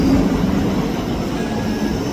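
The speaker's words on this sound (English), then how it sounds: "Arriving in now is the 12:13 Scotrail service from Edinburgh Waverley to Helensburgh Central" Scotrail unit 334033 pulling into Edinburgh Haymarket station, a loud, dense rumble and hiss of the electric train rolling close by with a faint tonal whine, no voices.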